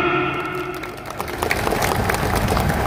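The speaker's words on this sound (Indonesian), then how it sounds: "Tepuk tangan dulu." Brief burst of crowd applause at a peaceful labor union protest by PT Indofarma employees, many hands clapping together at a steady level for a few seconds.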